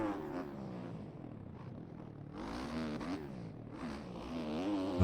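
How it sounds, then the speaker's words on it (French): Motorcycle engine in a motocross game, dropped into first gear for heavy engine braking: a continuous buzzing, fluctuating engine note that rises and falls in pitch, loud and close, with no talk. "passer en 1 là pour utiliser à mort mon frein moteur"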